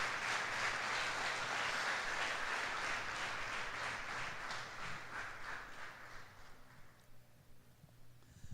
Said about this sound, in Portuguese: Você pode aplaudir esse Deus por isso?